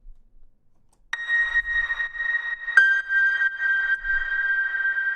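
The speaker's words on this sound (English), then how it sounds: "we've got this, which is a true piano sound" Sustained piano notes treated with reverb and compression, two struck tones ringing out long and even with a soft pulsing swell, clean and alone without talk.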